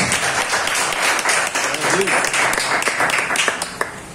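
A church congregation applauds steadily, a dense wash of clapping from many hands filling the room without pause.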